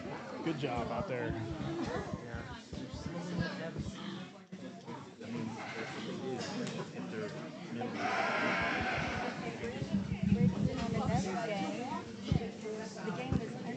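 Sheep bleat at a livestock competition's sheep round, scattered calls sounding under nearly continuous talk from an announcer and a busy, echoing arena crowd.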